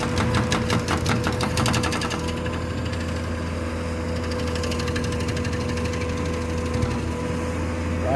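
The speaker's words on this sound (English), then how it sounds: "And we have a tree grinder in action." A tree stump grinder runs steadily among vacant lots after a town fire, a continuous droning engine with a rapid mechanical chatter in the first couple of seconds, heard alone from a moderate distance.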